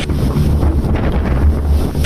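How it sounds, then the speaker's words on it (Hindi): Storm winds buffet the microphone at sea off Goa during a storm with heavy rain, a loud, continuous roar of gusts with low rumbling and churning water, no speech. "तूफानी हवाओं के साथ तेज बारिश भी हो रही है।"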